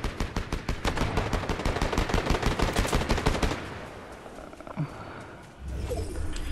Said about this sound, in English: I'm going towards the shots that were over here.